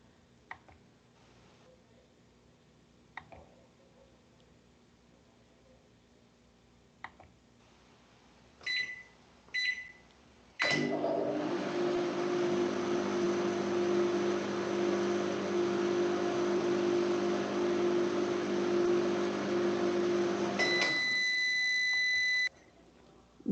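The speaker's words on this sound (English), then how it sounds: "A microwave?" A microwave oven: a few quiet clicks and button beeps, then a steady loud hum with a rattling drone for about ten seconds, ending with a series of high beeps as it stops.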